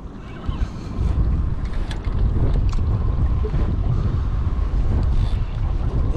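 Strong wind buffets an offshore fishing boat, a loud, constant roar with heavy low rumble and microphone gusts, alongside faint water and hull noise.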